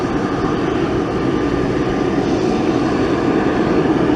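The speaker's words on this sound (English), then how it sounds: "And the CRJ rushes to get out of the way of another Boeing lander." A Boeing airliner and a CRJ regional jet at an airport, a loud continuous engine roar holding steady throughout with no breaks and no voices.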